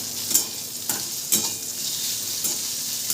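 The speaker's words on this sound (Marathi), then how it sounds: "फ्राय करून घेते अगोदर मस्तपैकी" Bitter gourd frying in a pan for a dry vegetable dish, a steady broadband sizzle with a few sharper stirring scrapes, close and fairly loud, no voices.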